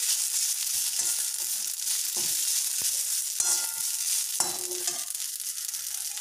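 Chutney ingredients sizzle and pop in a pan over a medium flame, a constant bright frying hiss broken by scattered sharp crackles and a few spatula scrapes.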